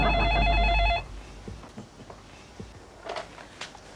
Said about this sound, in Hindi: तुम्हारे लिए फोन है, ऐश्वर्या का।